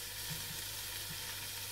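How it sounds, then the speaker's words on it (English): Chopped vegetables for Provençal ratatouille sauté in a pan with a steady, soft, even sizzle. "This is going to saute for about 15 minutes or so."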